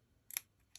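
Two quick crisp snips of scissors trimming paper, a louder cut followed by a fainter one, close and quiet in a calm room.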